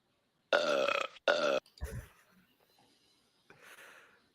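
Two long, loud burps ring out back to back in a game of guessing eating challenges, followed by a short thump and faint trailing noise.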